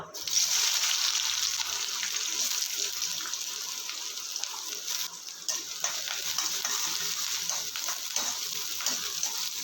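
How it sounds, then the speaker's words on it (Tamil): Sliced onions fry in oil with tempered whole spices while a ladle stirs them, giving a loud, continuous sizzle with a brief dip midway and faint scraping throughout. "வெங்காயம் போட்டதுக்கப்புறம் கரண்டி வச்சு ஒரு அஞ்சு நிமிஷம் வதக்கி விட்டுக்கலாம்"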